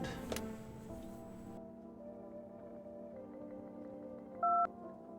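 A few mobile phone keypad dialing tones sound faintly over a quiet hum with a ticking start, ending in one short, clear beep near the end.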